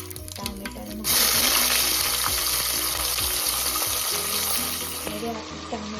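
Tomatoes hit hot oil in a tempering for sambar, setting off a sudden loud sizzle after a few soft clinks, then a steady crackling fry that eases near the end.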